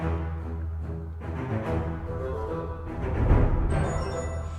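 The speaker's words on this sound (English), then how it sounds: "with the rest of the orchestra, it sounds like this." A full orchestra plays a repeating melodic motif carried by the cellos over sustained low strings, swelling louder toward the end as higher instruments join.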